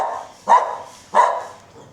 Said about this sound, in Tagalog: Medyo nagalit sa akin yung aso.